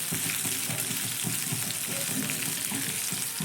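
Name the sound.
chopped green chilli and ginger frying in oil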